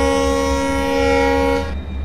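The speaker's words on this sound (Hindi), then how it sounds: "एक हॉर्न मैं गाइस यहाँ पे बजा दूंगा" Horn of a WDG4 diesel locomotive in Train Simulator 2023, a loud steady multi-tone blast held for nearly two seconds before cutting off, with engine rumble underneath.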